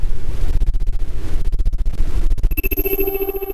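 A brainwave receiver's output rendered as sound: a loud, noisy rumbling buzz that pulses irregularly, then gives way to sustained electronic tones in the final second.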